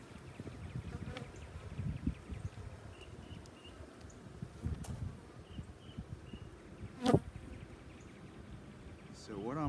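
Honey bees at an open hive with a brood frame pulled out give a constant faint buzzing hum. Occasional rustles, bumps and light outdoor wind sound over it.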